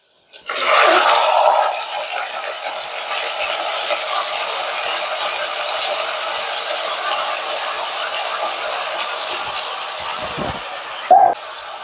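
Mutton pieces and onions frying in hot oil give a loud, continuous sizzling hiss that flares at first, then settles into a steady crackle with a brief stir near the end.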